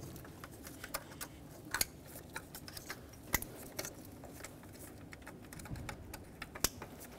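Fuel injector electrical connectors on a 2009-2019 Ford Flex engine snapped into place one by one during an intake VVT solenoid replacement, giving sharp, quiet plastic clicks scattered irregularly over a soft background hiss.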